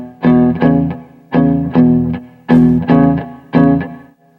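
Blues shuffle in E on guitar, alternating root-fifth and root-sixth chord shapes two hits at a time in an eighth-note triplet feel, with a slightly distorted tone; loud, evenly paced chord stabs in pairs with no talking.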